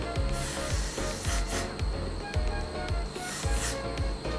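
Hairspray hissing in repeated short bursts close by on a quick weave hairstyle, with soft rhythmic thumps of the can between sprays.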